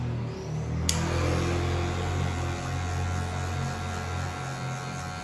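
An electric hair clipper runs close up with a steady tonal hum and buzz for the whole stretch, its pitch shifting slightly as it moves during a haircut.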